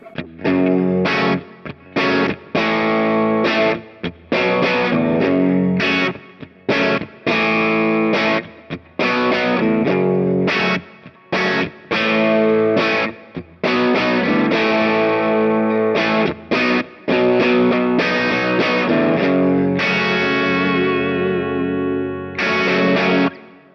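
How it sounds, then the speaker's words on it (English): Electric guitar through a Kemper profile of a small, low-wattage Dr Z amp pushed into overdrive, with choppy crunchy chords and riffs separated by brief pauses and a ringing chord near the end, loud and without talking. "that sounds like kind of overdriven small amp, like that power section is kind of getting going there"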